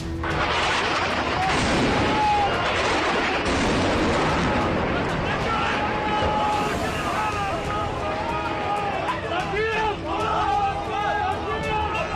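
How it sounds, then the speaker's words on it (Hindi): A loud, sustained roar of debris and crashing follows an Israeli airstrike that destroys a whole building, dense rumbling noise throughout with shouting crowd voices mixed in. "जैसे ही समय सीमा खत्म हुई, इजराइल ने एक बार से पूरी इमारत को मिट्टी में मिला दिया।"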